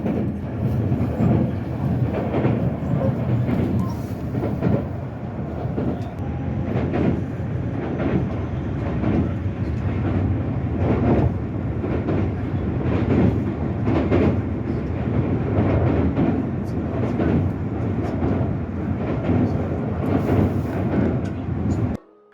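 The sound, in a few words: Tokyo subway train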